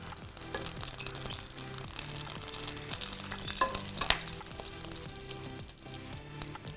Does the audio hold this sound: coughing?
no